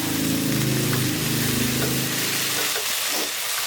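Eggplant and basil stir-fried in a pan for a vegetarian dish, giving a steady close sizzle with scraping stirs throughout, fading slightly toward the end.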